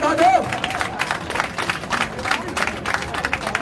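An audience at a Hong Kong rally breaks into a burst of scattered clapping for a Fujian friends' representative. The applause stays fairly close and lively while someone speaks over it.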